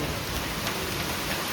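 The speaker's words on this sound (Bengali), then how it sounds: "ভালো বৃষ্টি নেমে গেছে।" Heavy rain pours down steadily, a dense close hiss of drops drumming on surfaces with no voices or breaks.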